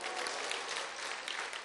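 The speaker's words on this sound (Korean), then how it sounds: "박수를 크게 칠 분들이 있어요" A short burst of steady, dense clapping fills the hall as a Korean church congregation applauds during a Sunday night evangelism testimony service.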